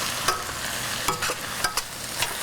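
Greens tossed with a mustard dressing in a warm pan, a steady low sizzle under repeated scraping stirs and several sharper clicks of a utensil against the pan, close and fairly loud.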